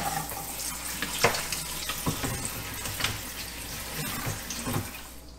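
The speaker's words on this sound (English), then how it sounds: "I'm going to rinse a little bit at a time in cold water and then put it in the other colander." Cold tap water runs and splashes over green tomatoes and onions in a colander, with a steady hiss and scattered clunks and knocks as the produce is handled.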